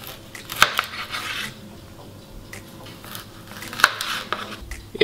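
A knife cuts mackerel into portion pieces about 2.5 cm thick on a board, two sharp clacks of the blade striking through, with softer scraping and handling sounds in between.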